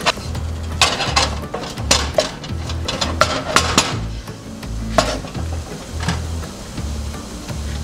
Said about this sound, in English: Now I'm gonna add a cup of flour, all-purpose flour. I'm gonna cook the flour.